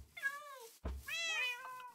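A domestic cat meows twice, close and clear: a drawn-out first call, a short pause, then a longer, rising-and-falling second meow.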